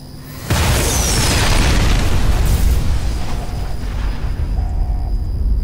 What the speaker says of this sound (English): Archimedes 2 orbital laser bombardment will commence in T-5, 4, 3, 2, 1.